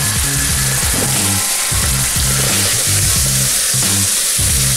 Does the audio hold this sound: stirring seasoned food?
yes